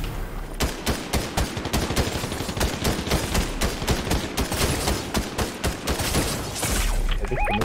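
Rapid, dense gunfire fills a Fortnite match, with shotgun blasts and automatic bursts firing almost continuously, loud and close.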